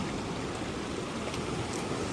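Sea waves crash against rocks below seaside cliffs, a steady, loud, broadband wash of surf that continues without a break and carries no voices.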